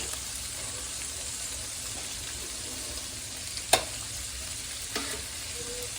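Onion, celery, carrot and garlic sauté in a pan for slow-cooker jugged hare, giving a steady, soft sizzle throughout with a brief utensil clink partway through and another faint tap near the end; no one speaks.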